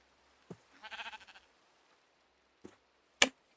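A sheep in a barn gives one short wavering bleat, with a few sharp knocks and thumps around it in an otherwise quiet space.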